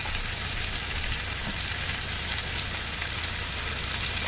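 Onions frying in butter in a pan, giving a steady, dense sizzle that stays constant and close throughout, with no voices over it.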